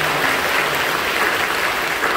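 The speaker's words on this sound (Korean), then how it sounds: "박수를 격려해 주시죠." Applause from a church congregation during a worship service, a steady dense wash of clapping that fills the whole moment without letup.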